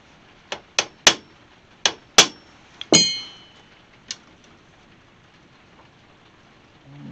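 A screwdriver is struck under stainless hood trim on a 1968 AMX, producing about eight sharp metallic taps and clinks at irregular intervals, close and crisp, with one longer ringing hit, then quiet.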